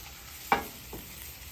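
Half a shallot cooking in a pan set on a flat-top griddle, a steady faint sizzle with one sharp clatter of a pan or utensil partway through and a softer knock after it.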